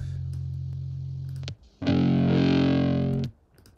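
A deep buzzing drone cuts off, then a huge distorted synth braam blast swells for over a second before stopping abruptly.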